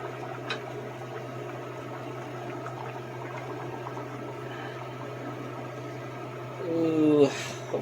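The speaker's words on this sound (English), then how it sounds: "now that that's come to a nice boil, I'm going to go ahead and put this meat in" Braising liquid at a full boil before pork shoulder goes in: a steady, low bubbling hiss over a constant hum, with a brief louder stir of sound near the end.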